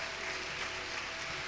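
Church congregation breaking into applause, a dense wash of many hands clapping at once, steady and fairly loud through a brief burst with no clear voice over it.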